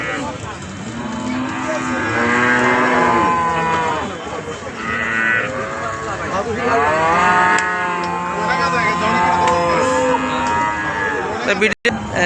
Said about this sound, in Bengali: এটা হইতেছে যে দুধের গরুর সাইড